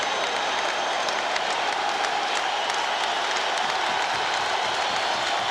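A large baseball crowd at Fenway Park cheers and applauds steadily, a dense, continuous roar of clapping and voices holding at full loudness throughout with no break.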